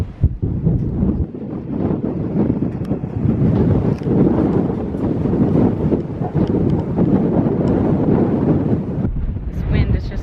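Strong wind gusts roar across the microphone in a spring garden, a loud continuous buffeting rush that swells and eases, with faint speech in places.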